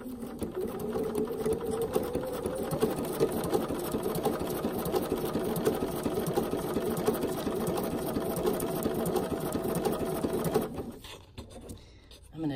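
A sewing machine stitches around the edge of a quilted fabric postcard, a steady close mechanical whir and rapid needle chatter running continuously for about eleven seconds before stopping abruptly into near silence.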